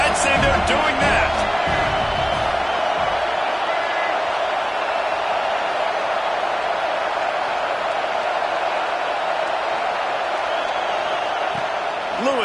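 A stadium crowd at a football game roars in a steady, dense wash of cheering that holds loud and even throughout, with a commentator talking over it at the start.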